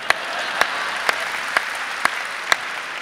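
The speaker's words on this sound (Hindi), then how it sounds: "ताली बजाओ, सांस लेना है।" Audience applause at a Hindi poetry performance, heard as a steady wash of clapping from a large crowd, with several sharper individual claps standing out at regular intervals.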